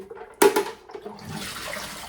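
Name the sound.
water running through Bluevua countertop RO filter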